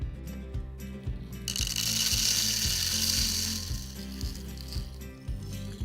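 Fresh medium-roast coffee beans rattle and patter into the hopper of a DeLonghi La Specialista espresso machine, a loud gritty pour over a rhythmic mechanical pumping hum.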